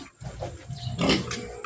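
A pig grunting and squealing close by in a rural setting, a few short rough vocal bursts with the loudest squeal near the middle.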